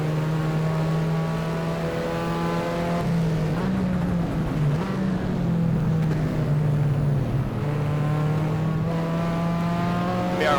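Holden Torana XU-1 race car engine in a racing video game at Wanneroo, 1972, a loud, steady, close drone that rises and dips through gear changes and revs, continuous throughout.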